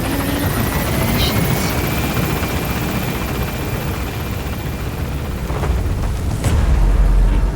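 The Pequod helicopter in Metal Gear Solid V roars loud and close as it lifts off, its rotor wash a dense continuous rumble that swells toward the end, with a voice speaking briefly over it.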